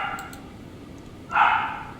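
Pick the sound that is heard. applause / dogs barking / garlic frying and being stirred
dogs barking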